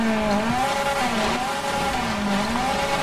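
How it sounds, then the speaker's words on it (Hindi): A small Maruti 800 drifts in GTA 5, its tyres squealing in repeated wavering bursts over a continuous engine drone, loud and close with no talking. "देख रहे हो दोस्तों स्किड खाती हुई निकलती है छोटी सी गाड़ी"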